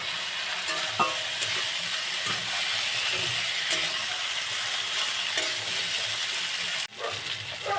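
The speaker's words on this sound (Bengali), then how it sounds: "সসটা দিয়ে আর একটু নাড়িয়ে নেব" Sauce, spices and rinsed pasta stirred in a frying pan for egg pasta, a steady broadband sizzle with periodic scraping strokes of the spoon, close and continuous, with a brief clunk near the end.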